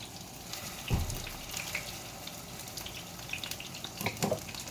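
Water splashes into a cooking pot holding figs, sugar and lemon juice for a fig compote, in two short pours about three seconds apart over a quiet kitchen background.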